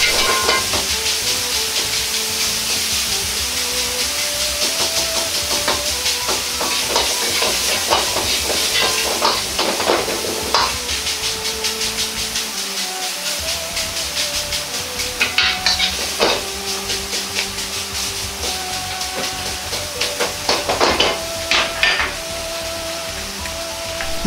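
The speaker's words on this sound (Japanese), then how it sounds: "ゴーヤを油通ししないで炒める場合はここで入れて炒めます。" Bitter melon and ground meat stir-fried in a pan give a steady loud sizzle and hiss, with frequent scraping and clacking of a utensil against the pan throughout.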